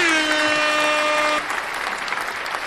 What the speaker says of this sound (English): We want to give a round of applause to all of our viewers and listeners.